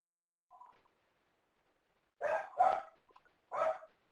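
A dog barks three times in quick succession, fairly close, after a faint short yip earlier; otherwise quiet.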